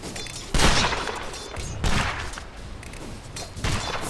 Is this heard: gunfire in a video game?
yes